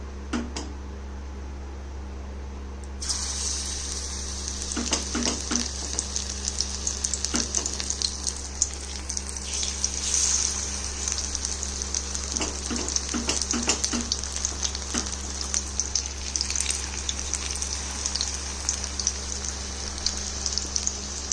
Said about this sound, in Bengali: ধীরে ধীরে বড়াগুলো ভেজে তুলব। তেলটা গরম হয়ে গেছে।